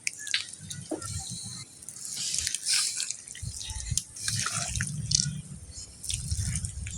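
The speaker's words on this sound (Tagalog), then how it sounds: "Ito, papasok ng tubig oh." Wet trickling and dripping water with soft squishing, close by, in uneven bursts over several seconds, as water seeps into a hole dug in mangrove mud.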